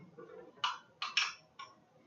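Sauce of pizza sauce and a little minced garlic stirred together for spreading on pita, heard as four crisp clinks of a utensil against a bowl, spaced irregularly over a quiet background.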